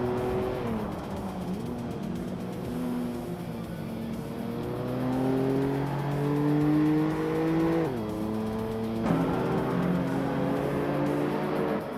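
A classic 1985 BMW M5 E28 and rival race cars pull away from the start at Wakefield Park, engines revving loud and steady with rising gear-change pitch sweeps, no voices.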